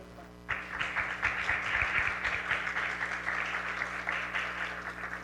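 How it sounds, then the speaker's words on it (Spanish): Warm audience applause for senators at a national social security week session, starting abruptly after a brief quiet moment and holding as a dense, sustained patter of many hands to the end. "a quien recibimos con un cálido aplauso"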